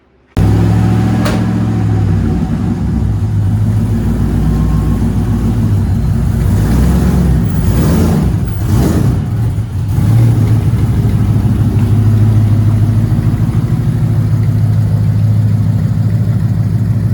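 A car engine runs steadily on test after an exhaust repair, a loud, close, continuous drone with a brief dip partway through. No one speaks over it.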